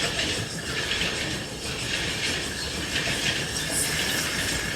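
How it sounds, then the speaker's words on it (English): Passenger train riding through Alaska, a steady rolling rumble and hiss of the rail car with faint rhythmic clacking, continuous and moderately quiet from on board. "It was fun riding the train with Papa and Bami"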